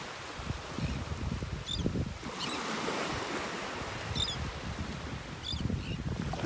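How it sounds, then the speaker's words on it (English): Beach birds give short, sharp calls in a few spaced bursts over steady ocean surf and wind rumble on a shore in North Naples, Florida, with no one talking. "You can hear the birds calling out."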